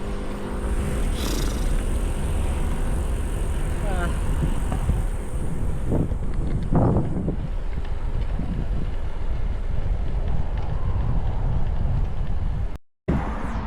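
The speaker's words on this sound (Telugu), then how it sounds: "ఓ మై గాడ్, దారుణంగా ఉంది విండ్ మాత్రం" Heavy wind in Taiwan roars and buffets the microphone continuously, loud and gusty, with a brief dropout near the end.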